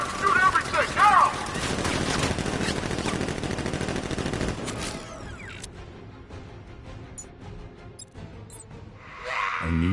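Guards open fire in a Batman video game, loud rapid gunfire bursts dominating the first half, then fading into quieter scattered mechanical noise and rumble.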